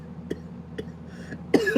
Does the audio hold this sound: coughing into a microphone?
yes